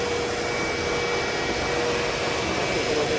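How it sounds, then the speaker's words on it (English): Floor cleaning machine vacuuming water off a vinyl floor, a steady, even whooshing drone with a faint high whine, continuous and close. "then I can actually put the vacuum with the water."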